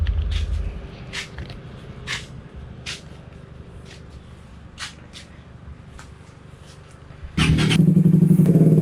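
Suzuki GSX motorcycle with a loud aftermarket exhaust, quiet with scattered clicks and handling noises before the engine bursts into a loud, throbbing idle near the end.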